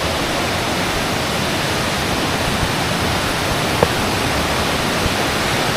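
A tall waterfall in Malaysia pours in a steady, loud broadband roar with no break, close and unchanging throughout, with no voices over it.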